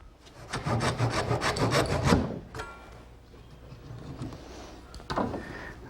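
Hand saw cutting a clamped wooden joint for a boat build, a close run of rapid back-and-forth rasping strokes that stops, then a few slower, softer strokes follow.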